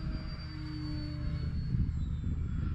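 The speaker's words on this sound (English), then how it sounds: "I'll show you a full speed pass. This is into the wind, full speed, firewalled." A model airplane makes a full-throttle pass with the wind, its engine a steady droning whine with a low rumble of wind noise, holding at a moderate distance.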